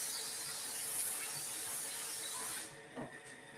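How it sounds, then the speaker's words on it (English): A Laurastar steam iron held off the board blasts a loud, steady hiss of steam through a shirt for over two seconds, then cuts off, leaving a couple of faint trailing puffs. "I'm just kind of shooting the steam through my shirt."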